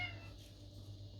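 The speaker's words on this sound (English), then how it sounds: "Apologies if you can hear the cat meowing in the background." A cat meows faintly in the background indoors during a garden sowing session, a brief, distant, thin cry over a quiet room hum, with no talking.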